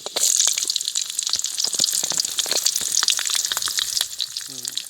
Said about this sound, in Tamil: எண்ணெய் காஞ்சிருச்சு இப்போ வெந்தயத்தை போடலாம்